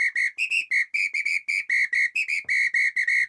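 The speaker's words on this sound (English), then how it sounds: "and even a samba whistle" A samba whistle is blown in a rapid, rhythmic string of about twenty short, shrill blasts, loud and close, with no other sound.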